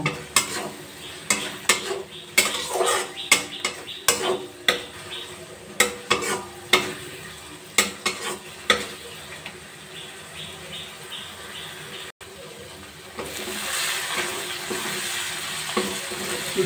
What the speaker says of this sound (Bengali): সমস্ত উপকরণগুলো এবার ভালো করে কষিয়ে নেব।